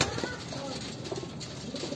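Pigeons in a loft coo softly, low throaty calls that sit faint and close under a hissy, steady background, with a brief flutter or shuffle near the start.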